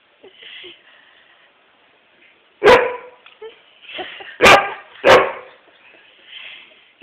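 A Shetland Sheepdog gives three sharp, loud barks spaced a couple of seconds apart, with quieter whines and soft noises between them.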